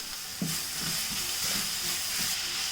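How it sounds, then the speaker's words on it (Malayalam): Masala with pasta sauce and tomato frying in a pan, stirred through: soft steady sizzle and hiss under rhythmic low scraping strokes of the spoon, about six in a row, no talk. "നന്നായിട്ടൊന്ന് ഇളക്കി കൊടുക്കാം"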